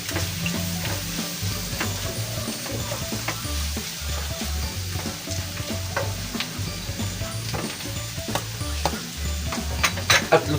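Ground pork sisig sizzles steadily in a hot pan while a spatula scrapes and stirs through it, a continuous close frying hiss with repeated scraping strokes and no talking.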